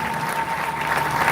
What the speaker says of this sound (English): Can we give Jesus a big clap?